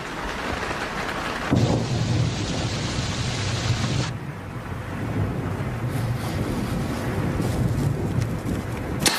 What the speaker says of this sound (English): Oh, I wish this rain would let up.